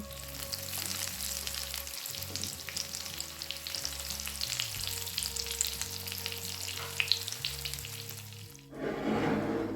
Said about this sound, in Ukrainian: Смажимо котлетки на розігріті олії до золотистого кольору з обох сторін.